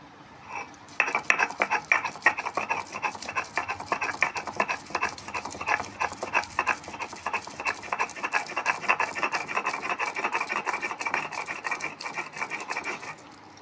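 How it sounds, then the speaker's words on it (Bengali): Melon seeds and raisins being ground into a paste on a stone, a steady rasping, scraping rhythm that runs close and continuous for the whole stretch with no talk. "চাল মগজ আর কিশমিশটা বেটে নিই"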